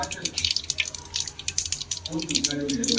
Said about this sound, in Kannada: ಈಗ ಚಟಪಟ ಅಂತ ಇದೆ ಫ್ರೆಂಡ್.